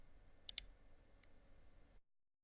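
A computer mouse clicks twice in quick succession, sharp and close, while selecting Next in Bible reading plan software, followed by near silence.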